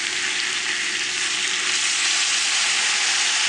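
Shrimps with garlic and broccoli sizzle loudly and evenly in a pan, a dense, constant frying hiss up close with no speech.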